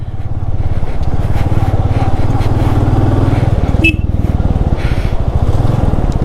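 Close, loud motorcycle engines throb with a fast steady pulse as the bikes pass along a rough mountain road on the route from Kishtwar to Killar, the chugging continuing without a break.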